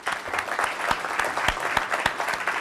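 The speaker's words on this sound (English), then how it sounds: "Warm round of applause." Audience applause at an evening lecture welcoming a historian to the stage at a politics institute: a short, dense burst of many hands clapping, steady and fairly close, with no talking over it.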